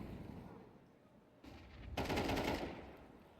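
Counter-Strike gunfire in a pro esports match: a rapid automatic burst swells in and stays loud near the end, with game ambience beforehand.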